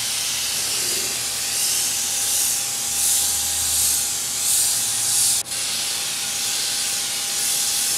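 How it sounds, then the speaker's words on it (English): Light hand sanding of a sealer coat on a wooden toy box produces a steady, close, raspy hiss of abrasive rubbing back and forth with no talking. "You just want to get it smooth without removing too much of the sealer."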